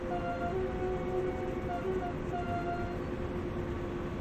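A train horn honks in the Train Sim World video game, with several short toots sounding over a constant rolling rumble of the train.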